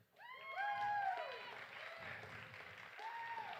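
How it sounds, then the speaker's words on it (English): A small crowd at a live security meetup claps and cheers as a guest arrives, with rising whoops and voices over scattered applause, fairly faint and distant. "Everybody, applaud for Chris"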